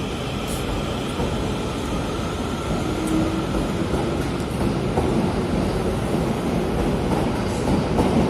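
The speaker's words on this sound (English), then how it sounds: "The two trains are now making a departure from Bournemouth." Two coupled trains depart Bournemouth station, a loud, steady rumble of wheels and engines heard close by, with faint clicks over the rails and no talk.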